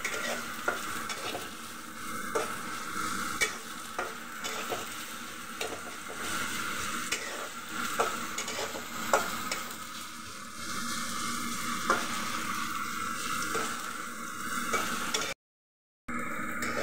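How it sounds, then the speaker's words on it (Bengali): Chopped onions frying in oil hiss and crackle in a constant close sizzle, with intermittent taps of stirring and a brief cut near the end. "এখন পেঁয়াজগুলোকে একটু ভেজে নিব।"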